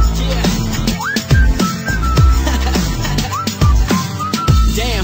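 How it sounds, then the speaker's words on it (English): Whistled notes, short rising and sliding pitches, repeat in a light melodic pattern over a steady pop backing beat with bass, played up close and loud. "I didn't know what to say, so I just whistled at her."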